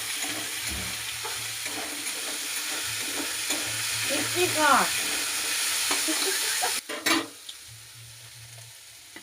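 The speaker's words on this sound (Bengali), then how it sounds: "গাজরগুলো একটু দিয়ে দিচ্ছি ভাজতে তো টাইম লাগবে" Carrots sizzle and are stirred in a hot pan, a steady crackle with scraping of a utensil, then a brief clatter near the end.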